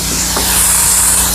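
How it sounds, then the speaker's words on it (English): Flex Ice interior cleaner sprayed onto a farm truck seat as a broad, steady hiss of spray that continues without a break, close and fairly loud. "I usually soak the seat again with Flex Ice."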